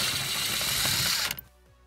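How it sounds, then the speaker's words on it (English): A power driver whirs steadily while backing out a T20 screw from a Jaguar XF rear door panel, a loud continuous buzz that cuts off abruptly near the end, leaving quiet. "Now remove the T20 screw."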